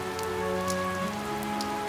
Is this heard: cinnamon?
no